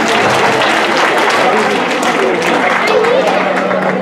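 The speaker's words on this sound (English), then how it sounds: "Can I have a round of applause for him?" Sustained audience applause fills a Durga Puja pandal event, dense steady clapping from a large crowd with voices mixed in, loud and unbroken throughout.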